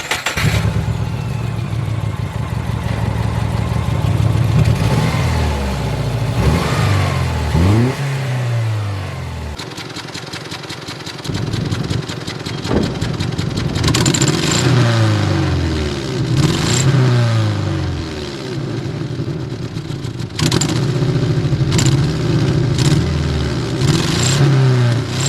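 A 2000 Subaru Impreza 2.5 RS with a massive exhaust leak revs up repeatedly, each climb falling back to a rough idle, loud and close with no one speaking.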